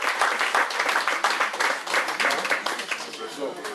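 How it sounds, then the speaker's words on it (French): An audience at a French political support committee gathering applauds with steady, dense clapping that carries on throughout, under a voice speaking over it. "je sollicite vos applaudissements pour ces deux hommes"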